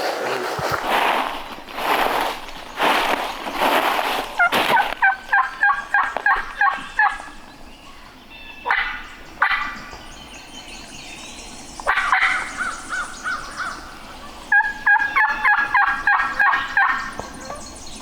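A wild turkey gobbler about 25 yards away gobbles again and again in loud, close bursts, with quieter calling and brief pauses between the outbursts and no talking.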